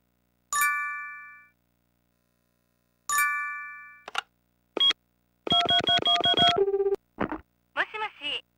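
Tokimeki Memorial 3 game telephone sequence: two ringing chime tones with gaps, then a rapid run of electronic dialing beeps and short tones, clean and close.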